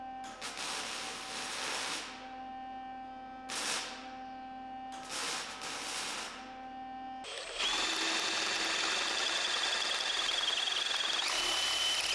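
A power drill drilling metal on a 1948 Chevy Business Coupe whines in three bursts, steady and close, with a high harmonic tone; a louder, rougher grinding whir takes over near the end.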